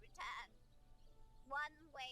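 Sheep bleating in the video game Divinity: Original Sin, three short bleats, faint and separated by quiet gaps.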